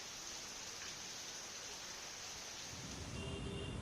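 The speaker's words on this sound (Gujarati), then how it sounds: "આ દ્રશ્યો સુરતના છે, જ્યાં નવી સિવિલથી મજુરા ફાયર સ્ટેશન સુધીના રોડ પર વરસાદી પાણી ભરાઈ ગયું" Steady rain falls on a waterlogged road in Surat, a dense, even hiss of drops spread across the whole stretch with a low rumbling wash beneath, constant and moderately loud with no voices.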